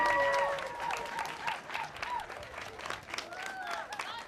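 An audience applauds singers, a soft, fairly distant patter of clapping that rises and falls over a few seconds, with voices and a few shouts mixed in.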